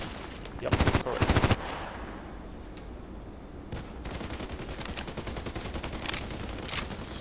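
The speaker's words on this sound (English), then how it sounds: "doing shots with my machine gun" RPK machine gun in Contract Wars firing two short loud bursts of rapid shots, then after a pause a longer stretch of quieter, steadier automatic fire continuing to the end.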